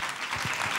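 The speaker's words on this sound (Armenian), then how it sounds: "ծափարում ենք Փոլին" A short, fairly soft burst of audience applause at a televised gala, a dense wash of many hands clapping together with no voices.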